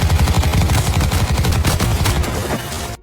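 Gunfire in a film firefight, rapid loud bursts of automatic shots in quick succession, dense and close, cutting off abruptly at the end.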